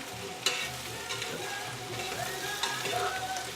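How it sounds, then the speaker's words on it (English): Vegetables sauté in a hot pan for a chili, a steady close sizzle and crackle with a couple of sharp clinks of stirring, no talk. "We're just going to saute this a little bit to make them tender crisp."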